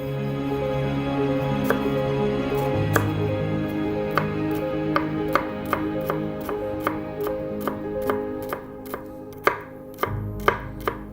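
Onion being finely chopped with a knife on a board, a steady run of close, sharp chopping taps that speed up and grow crisper toward the end.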